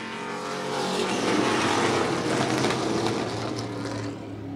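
Race cars roar around a dirt-style oval track in a weekly heat, a dense, continuous engine drone from several cars close together, steady and loud throughout with no talk.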